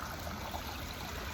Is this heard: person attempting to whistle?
no